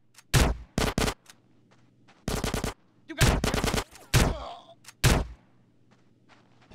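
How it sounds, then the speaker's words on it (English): Gunfire in the video game GTA San Andreas, heard as several loud, short bursts of shots spaced across the clip, some ringing into a brief echoing tail, with no talk over them. "Give me some fucking covering fire!"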